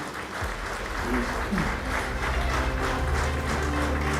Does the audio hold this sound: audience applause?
yes